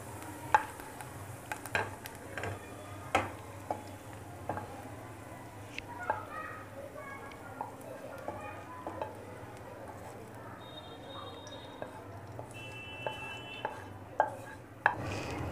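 Macaroni cooking lightly in a pan with capsicum, giving a soft steady sizzle with scattered clinks and scrapes of a spoon against the pan and a few brief higher tones from the kitchen.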